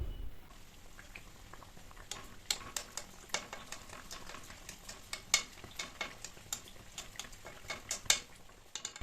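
Kachoris frying in oil in a kadai over a low to medium flame, a soft continuous bubbling sizzle with scattered light pops and crackles, fairly quiet and with no voices.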